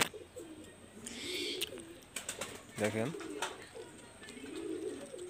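Pakistani high flyer pigeons in a home loft in Khulna give low, soft coos, with one clearer rolling call midway, amid faint rustling and background noise while someone speaks.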